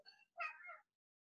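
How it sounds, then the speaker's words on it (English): A pet cat gives two short meows indoors, close and fairly quiet, the second longer and stronger, followed by silence. "The cat is walking under the laptop because she is a special kitty."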